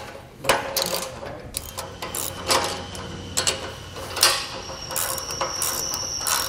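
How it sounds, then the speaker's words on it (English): Hand tools work on the spring hanger bolts of a Malone EcoLight Sport trailer with V-style carriers, giving a run of close, sharp metallic clicks and ratcheting bursts with no talk. "then we're going to tighten down these bolts on the hangers"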